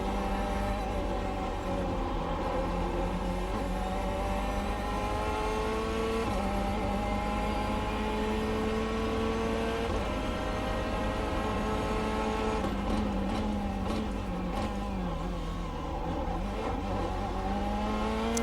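Corvette C8.R GTE mid-engine race car in the iRacing game, its engine revving loud and continuous as it climbs and drops through the gears, with a brief tire squeal. No voices.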